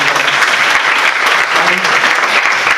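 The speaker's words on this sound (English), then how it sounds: "So let us clap for Dr. Pathak." Sustained applause from an audience at a talk on empowering adolescents in crises, dense and steady clapping filling the whole stretch with no voices over it.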